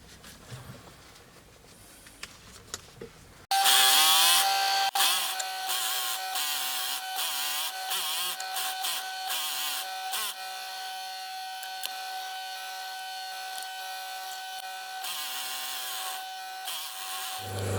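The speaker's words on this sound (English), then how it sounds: "I've got the sewing machine set up, I've installed white thread, and I'm going to make a start making the piping for the lid of the Ottoman." A sewing machine stitches white faux leather piping for an ottoman lid, a rapid, fairly close mechanical whirr in bursts of varying length after a quiet start.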